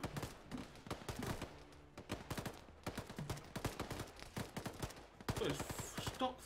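Dense gunfire in the ARMA 3 video game during a convoy ambush in Afghanistan: rapid, uneven volleys and bursts of rifle and machine-gun shots, fairly distant and quiet, running continuously with no talk.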